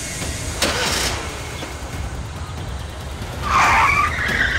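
A car engine is started and revved, a harsh rising roar with a squeal near the end, loud and close, preceded by brief mechanical clunks; no talking.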